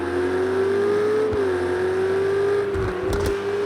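A race car engine holds a steady high whine while accelerating on the Spa circuit in Project Cars 2, loud and close, with a brief gear change near the end and no voices.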